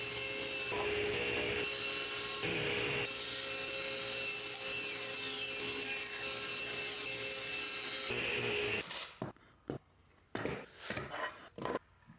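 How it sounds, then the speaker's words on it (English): A wooden board is run through a planer to bring it down to 3/4 inch, giving a loud, steady broadband roar for about eight seconds, with a couple of short interruptions. It is followed by scattered knocks and handling sounds. "I'm going to be planing this down to 3/4 of an inch"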